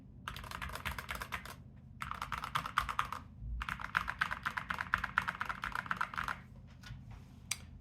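Fast bursts of typing on a mechanical keyboard with lubed switches, soft muted clacks, pausing briefly between runs, close and fairly quiet.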